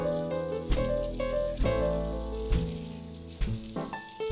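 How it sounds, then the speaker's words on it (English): Butter melting and sizzling in a heated non-stick pan on a medium flame, with a steady close frying hiss and a few sharp clinks and taps across the clip; there is no talking. "Let's add in the butter."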